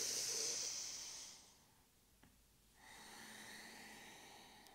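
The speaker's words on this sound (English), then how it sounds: "big inhale, big exhale. Even bigger now." Deep breathing during a morning yoga stretch, a long, loud hissing inhale close to the microphone, a quiet pause, then a long exhale, with no speech.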